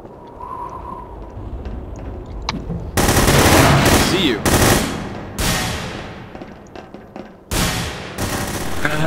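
Automatic gunfire in the multiplayer shooter The Hidden, loud bursts of rapid machine-gun fire starting a few seconds in and returning in several long volleys, with brief pauses between them.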